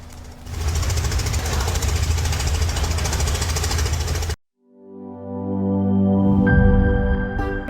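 A passenger and cargo trawler's engine on the Meghna river near Chandpur pounds loudly with a rough, rapid knocking for about four seconds, then cuts off abruptly and gives way to a quite different, steadier tonal sound.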